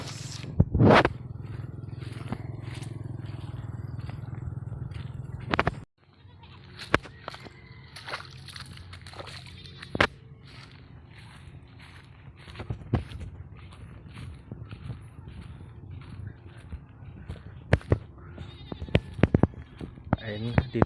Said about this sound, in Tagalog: Ito yung ibang kambing namin dito.